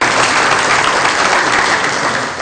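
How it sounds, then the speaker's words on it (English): Loud, dense applause from a forum audience greeting a panel member at a community initiative event, a full sustained roar of many hands clapping together that holds steady before tapering at the very end. "a big round of applause"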